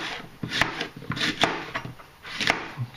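A knife chops apples for apple wine, several irregular close cutting thuds and crisp slicing strokes over a short stretch, with no voices.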